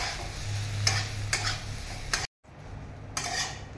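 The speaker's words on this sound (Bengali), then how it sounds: "আমি নাড়াচাড়া করব।" Boiled green mung beans with spices being stirred in a pan, a soft continuous scrape with a few sharp spoon-on-pan clinks and a brief pause in the middle.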